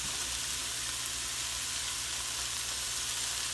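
Bacon and cabbage frying in olive oil, a continuous close hiss and crackle of sizzling fat holding steady throughout with no talking.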